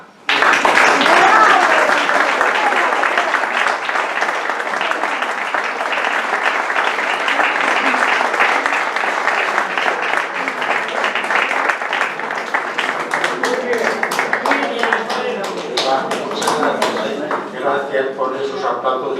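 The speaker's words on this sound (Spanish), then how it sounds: "Gracias por esos aplausos inmerecidos" Loud sustained applause from an audience after a poetry reading, dense clapping that fills the whole stretch and slowly thins toward the end, with some voices mixed in.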